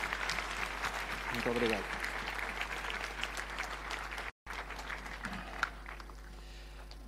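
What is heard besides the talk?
audience applause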